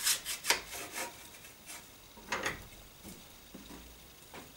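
Short rasping strokes of a metal file sharpening the teeth of a hand saw, quick bursts of scraping followed by pauses, close and fairly quiet.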